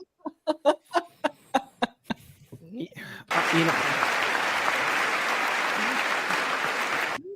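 An audience at a State of the Union address breaks into sustained applause, a dense wash of clapping lasting about four seconds, after a run of short rhythmic sounds and a few brief vocal bits.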